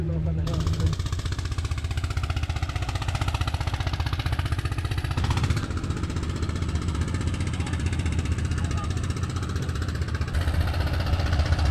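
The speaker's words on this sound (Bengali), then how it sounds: "ওই যে একটা নৌকা আসতেছে" A boat engine chugs steadily and close by as the boat approaches, a continuous rapid pulsing throughout with a slight shift in tone partway through.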